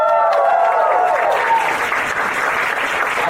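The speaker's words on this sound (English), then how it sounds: "Shall we give all these new friends a warm applause?" An audience gives warm applause, a dense, loud wash of clapping that carries on steadily throughout.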